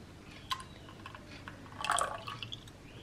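Liquid pours into egg white for a coloured omelette, a faint trickle and drip that swells briefly into a fuller splash near the end.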